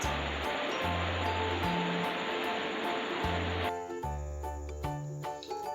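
A wild African waterfall on the Kalungwisi River sends up a steady, broad rush of falling water. The roar runs continuously beneath a layer of music with a repeating bass line.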